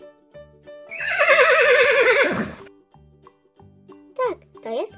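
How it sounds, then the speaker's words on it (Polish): A loud, drawn-out horse whinny with a quavering, falling pitch, set against soft, light background music and toy-like chimes. "Tak, to jest konik."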